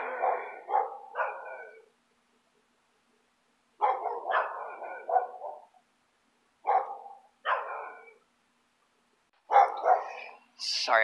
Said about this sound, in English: sorry if you hear the dogs bark